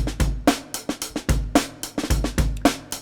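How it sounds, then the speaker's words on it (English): A busy drum loop with punchy kicks, crisp snare hits and bright hi-hats repeating in a steady, driving pattern, loud and up close, playing through a Doepfer BBD modular delay. "So let me take you to a slightly more complex drum loop,"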